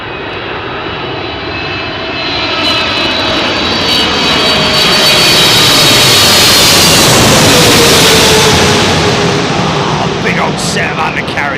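A Turkish Airlines Boeing 777 on arrival passes overhead on final approach to runway 27L at London Heathrow, its loud jet roar swelling to a peak then fading, with a voice speaking faintly beneath it.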